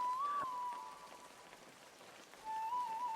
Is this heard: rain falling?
yes